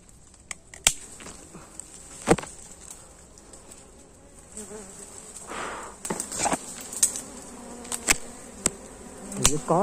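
Dwarf honey bees buzz steadily around a wild honeycomb being cut and harvested, a close, continuous hum broken by sharp knocks and clatters from handling the comb.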